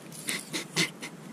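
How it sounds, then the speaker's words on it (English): A dog pants in quick, soft breaths with brief whimpers mixed in, close by and fairly quiet, with no talk over it. "Dog."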